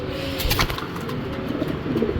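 Large racing pigeons, a costly pair, cooing close by in a low, steady rolling murmur that runs through the whole stretch without talk.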